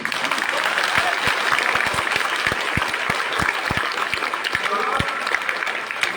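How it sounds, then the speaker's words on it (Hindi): A crowd at a political rally in Lakhimpur claps steadily for several seconds, a loud, dense mix of many hands with voices murmuring underneath. "ताली है, ताली है।"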